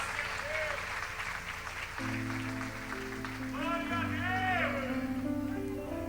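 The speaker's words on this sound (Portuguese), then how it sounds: "Você pode aplaudir o Senhor por isso?" A church congregation applauds during a worship service, soft clapping blending beneath sustained keyboard chords and a singing voice, the whole scene moderately quiet and steady.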